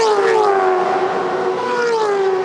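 Supercars race cars, including a Nissan, scream past at full throttle on the Adelaide 500 street circuit, with high engine whines sweeping down in pitch as they pass close and loud, one after another.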